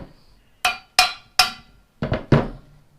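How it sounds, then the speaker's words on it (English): A small hammer strikes S14 subframe and knuckle parts, three evenly spaced sharp metallic taps followed by a quicker cluster of three, close and crisp with no talking. "Little hammer action"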